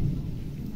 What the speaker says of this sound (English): I'm just going through a bit of a thunderstorm here, so it might be a bit noisy